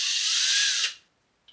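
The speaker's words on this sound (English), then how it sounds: "I'm gonna go get my drill, this is annoying." A power drill whirs in one short high-pitched burst while unscrewing a faucet counterweight, close and loud for under a second before stopping abruptly, followed by a tiny click.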